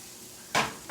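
Yellow squash cooking in butter in a pan, tossed once with a sharp close sizzling burst followed by a second smaller toss, over a quiet low background.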